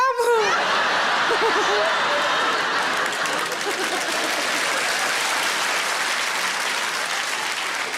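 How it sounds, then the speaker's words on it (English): A comedy-club audience applauds loudly and steadily, dense clapping filling the room for several seconds, with scattered chuckles and laughter mixed in. "you're all clapping"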